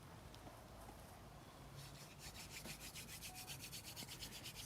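Wooden hand drill spun against a fireboard with a little sand for friction, starting slowly: a steady rasping rub that turns into a quick, even back-and-forth scratching rhythm partway through, close and fairly quiet, with no talking.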